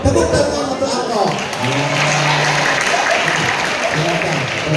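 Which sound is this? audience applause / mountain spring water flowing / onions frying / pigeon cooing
audience applause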